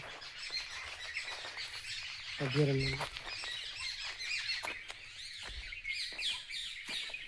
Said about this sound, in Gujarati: વિવિધ જાતના પક્ષીઓ ત્યાં તમને જોવા મળશે